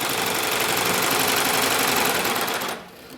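A Baby Lock Evolution serger stitches a tube of tricot fabric for a spaghetti strap. A loud, steady, rapid mechanical whirring runs close up for nearly three seconds, then cuts off abruptly into quiet.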